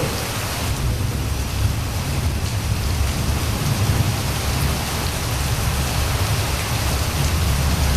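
Steady heavy rain pours down continuously at an outdoor campsite, a dense unbroken hiss with deep low rumbling underneath, loud and close with no voices.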